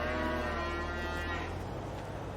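A cow in Farming Simulator 22 lets out one long, drawn-out moo, fairly faint, that tails off into quiet farm ambience.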